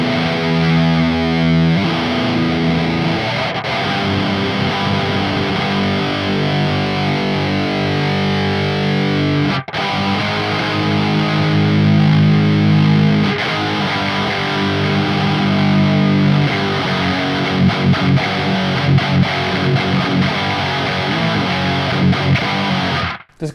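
A heavily distorted, high-gain electric guitar in E standard, through the Neural DSP Archetype: Gojira plugin with overdrive, plays thick chugging chords and riffs, loud and saturated throughout with no voices.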